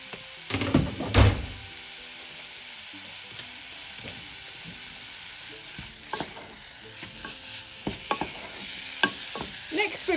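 Chicken sizzles quietly in a pan while a utensil scrapes and stirs it through a spice mixture in short, irregular strokes; no one speaks.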